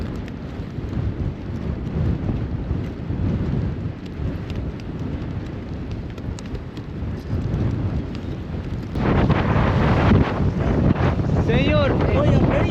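Strong Patagonian desert wind buffets the microphone with a constant low roar, growing louder and gustier near the end.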